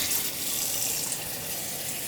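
Cold water runs steadily from a tap into a sink, a continuous close hiss and splash with no voices.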